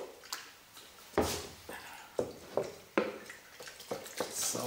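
Organic spelt active starter is stirred into water in a bowl, giving wet sloshing, squishing strokes in an uneven rhythm, close and moderately loud.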